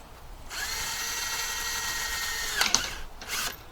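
A power drill whines steadily as it bores a hole, then a brief clatter and change in pitch comes as it breaks through before the motor winds down, fairly quiet overall.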